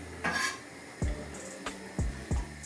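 A spoon stirring thick teff porridge with coconut cream in a pot, several dull knocks and scrapes against the pot at an uneven rhythm, close and fairly quiet.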